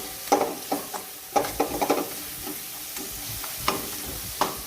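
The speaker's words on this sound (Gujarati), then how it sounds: "આપણે ધીમા ગેસ પર જ્યાં સુધી મસાલામાંથી તેલ ના છૂટું પડે ત્યાં સુધી આપણે મસાલો શેકી લેવાનો છે" Spice masala with dry mango powder is roasted in oil over low heat, a soft background sizzle broken by repeated scraping stirs of a spoon in the pan, close and clear, with no talking.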